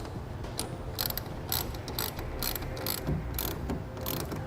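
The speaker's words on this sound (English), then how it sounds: "then we can tighten down our clamps" Clamps on a TruXedo TruXport soft roll-up tonneau cover being tightened, producing a series of sharp ratcheting clicks in short irregular bursts, fairly close and alone.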